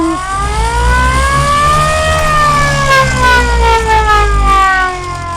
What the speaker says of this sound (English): Fire siren.